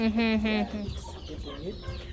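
A local hen brooding her chicks gives a few close, low clucks and grunts, preceded by a brief higher call, with light farmyard background.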